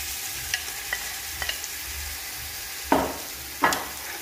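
Chicken frying in a pan for spicy noodles sizzles continuously while a utensil stirs it, a few light taps followed by two louder scraping strokes near the end, close and with no talk.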